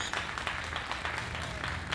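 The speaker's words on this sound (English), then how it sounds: "give them a round of applause" Applause from a crowd at an outdoor freedom rally, a dense steady clatter of clapping that fills the whole moment at moderate volume.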